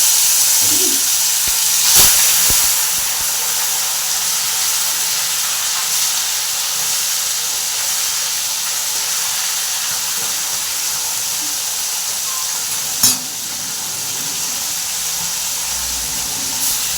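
Fish pieces rubbed with salt and turmeric fry in hot oil in a kadai, giving a steady broadband hiss and sizzle throughout, with a couple of sharp clicks or spatters standing out briefly.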